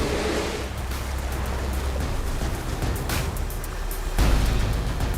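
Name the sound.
ocean waves surging onto a beach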